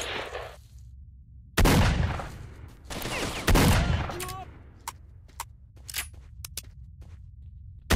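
Gunfire in S.T.A.L.K.E.R. Shadow of Chernobyl: two loud, close blasts with long decaying tails, followed by a scatter of sharp, fainter distant shots and clicks over a low rumbling ambience.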